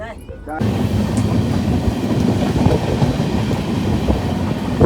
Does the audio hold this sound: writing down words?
no